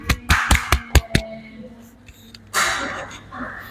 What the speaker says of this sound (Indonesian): Berikan tepuk tangan kepada Mas Afnan